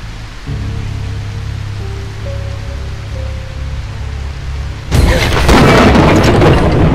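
Thunder in the survival horror game A Quiet Place: The Road Ahead, where a low rumbling drone with a faint tone gives way to a sudden, loud crash of thunder and roaring rain that fills the last two seconds.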